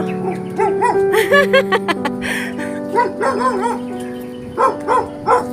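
A dog barks and yips in short, excited bursts at close range, with several quick yelps spread across the clip and faint background noise between them.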